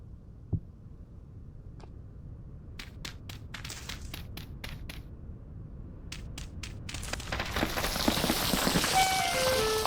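Dirt blocks in Vintage Story tumble down as a burst of quick ticking impacts, then swell into a dense, rising patter like rain. No one speaks.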